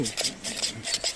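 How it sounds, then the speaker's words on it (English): A spoon scrapes and rubs through pancake batter made with rolled oats, giving a few short rasping strokes in quick rhythm, close by. "mixing the pancake mixture."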